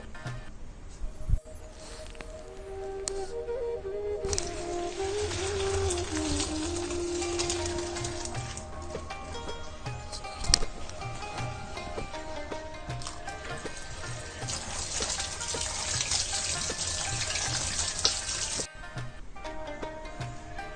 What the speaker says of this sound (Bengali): এখন এটা আমি পানি থেকে একটু ছেঁকে নেব।